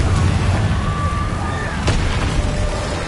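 Spell blasts from the Hogwarts Legacy video game, including the Confringo blasting curse, heard as a dense, continuous barrage of booming explosions with one sharp crack partway through.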